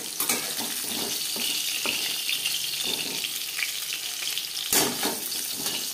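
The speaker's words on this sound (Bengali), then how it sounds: "মাছ ভাজা হয়ে গেছে" Fish sizzles and spits steadily in a frying pan, a dense crackling hiss broken by occasional sharper pops, with no voices.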